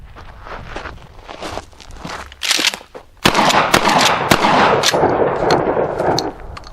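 A Mossberg 500 pump shotgun with no choke fires outdoors, giving several loud, sharp reports at irregular intervals over rumbling background noise.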